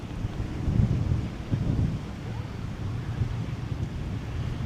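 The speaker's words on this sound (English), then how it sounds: "we've got a change of direction in the wind" Wind gusting across an outdoor motorkhana stage, a low rumbling buffet on the microphone that swells and eases over several seconds, fairly faint and without clear talk.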